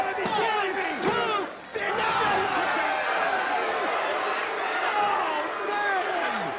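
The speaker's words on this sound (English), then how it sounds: "The crowd's screaming for a 3." A large wrestling crowd at an NWA TNA X Division match in 2002 screams and roars continuously for a three count, a dense loud wall of voices with one brief dip before surging again.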